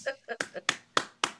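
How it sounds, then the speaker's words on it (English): Hands clapping in a few sharp, separate claps at an evening stage event, loud and close, with voices mixed in among the claps. "big round of applause."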